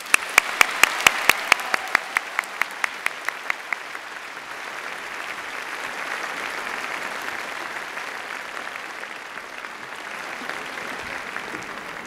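At a Faculty of Medicine commemoration day ceremony, an audience applauds the new medical graduates: a few loud, evenly spaced claps ring out first, then a large hall fills with sustained, diffuse applause that continues steadily.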